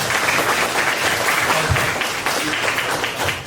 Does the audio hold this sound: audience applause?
yes